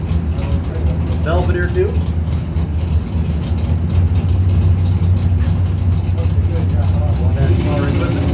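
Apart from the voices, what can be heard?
race car engine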